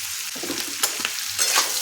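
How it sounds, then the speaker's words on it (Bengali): Eggplant pieces fry with pumpkin and taro in a pan, a close, soft sizzle punctuated by a few quick scrapes of a spatula stirring the vegetables. "বেগুনটা খুব ভালোভাবে ভেজে নেব।"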